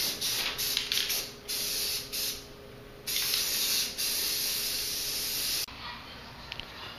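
Paint sprays in short and long hissing bursts from a spray can as a coat goes onto a wooden fishing rod rack, close and fairly loud, with brief pauses between passes.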